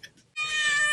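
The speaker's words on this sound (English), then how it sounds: "This is Turtle, the prosecuting cat attorney, that will be filing suit against you just as much as your father-in-law." A cat gives a single loud, close meow, a drawn-out tonal cry rising after a brief moment of quiet.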